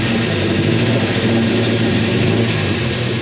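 An Alfa Romeo Spider's Spica-injected engine runs close and steady, idling with a continuous dense rumble and no talk over it.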